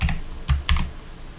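Short bursts of typing on a computer keyboard while entering a Laravel command: a few quick, crisp key clicks in small clusters, close and clear with no talk.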